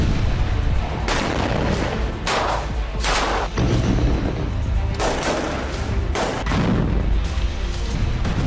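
Heavy bombardment in northern Gaza: a dense stretch of booming blasts and crackling gunfire-like bursts, loud and continuous with repeated sharp impacts rising out of a rumbling din.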